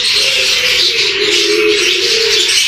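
Budgerigars kept in a cage chirp and warble close by, a continuous stream of bright overlapping twittering calls with no voices.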